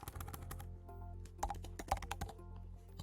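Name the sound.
typing text on a computer keyboard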